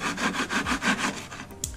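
A saw cuts a piece of wood to length in a workshop, with about six steady back-and-forth rubbing strokes close by, then a brief pause.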